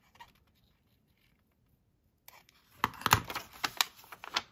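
Scissors snip through a paper envelope flap for a junk journal, a quiet pause giving way to a close cluster of crisp, papery cuts and rustles over a few seconds.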